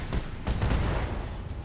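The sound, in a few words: Emperor mech firing weapons at Blackjack, from video game RogueTech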